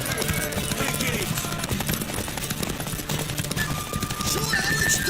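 Horse hooves clip-clopping in The Witcher 3 game, a steady hoof rhythm mixed with game music and ambience, with a brief whinny-like tone near the end, and a voice talking over it.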